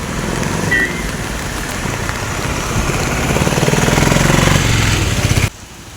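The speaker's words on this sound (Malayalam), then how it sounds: "ഭീകര മഴ." Heavy rain roars in a dense, loud wash outside a roadside tea shop, cutting off abruptly near the end.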